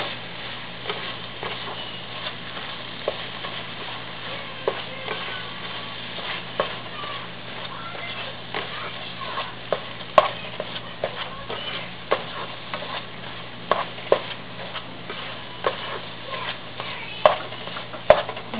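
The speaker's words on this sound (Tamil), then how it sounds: "கை விடாமல் கிளறுங்க, இல்லைன்னா அடியில் தீஞ்சிரும்" Beans and egg poriyal being stirred nonstop in a pan, a soft constant sizzle under a long run of rhythmic spatula scrapes and taps against the metal, heard up close with no talking.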